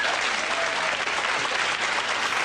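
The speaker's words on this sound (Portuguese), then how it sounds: "a mulherada já tá aplaudindo ele" A group of women applauding a man during a debate, with thick, continuous clapping from many people that stays even and loud throughout the short stretch.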